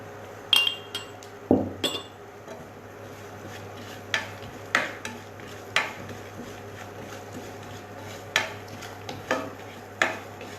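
Food roasting in a pan with pounded cardamom while a utensil scrapes and clinks against the metal in regular strokes, each a sharp tap followed by a short scrape over a low steady hum.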